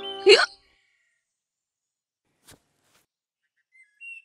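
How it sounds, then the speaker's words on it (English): A cartoon child gives one sharp, loud hiccup at the start, followed by near silence with only a faint click midway and a small sound at the end. "Hiccups all gone?"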